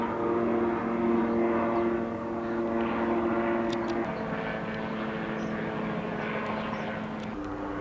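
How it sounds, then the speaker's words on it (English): A propeller airplane flies overhead, a steady droning engine hum at moderate distance that shifts pitch slightly as it passes. "The airplane says good morning, everybody."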